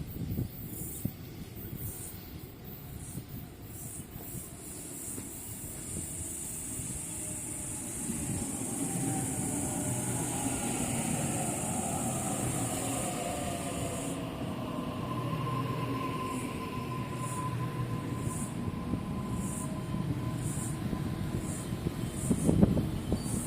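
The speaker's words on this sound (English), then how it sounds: "Waratah Series 1 set A75 is now departing." A Waratah Series 1 electric passenger train pulls out of Denistone station in Sydney, its motors whining up in pitch as the rumble of wheels builds, heard from the platform at moderate distance with no talk.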